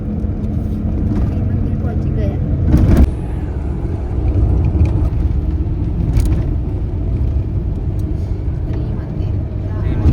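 A car is driving to a temple on the way to Bahucharaji, giving a low, continuous engine and road rumble from inside the vehicle, with a brief louder swell about a third of the way in. People talk over the drone.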